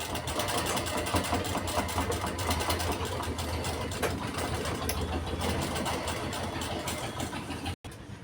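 A sewing machine stitches a collar in a close, continuous rapid chatter of needle strokes, fairly quiet, stopping abruptly near the end with a brief pause; no talk.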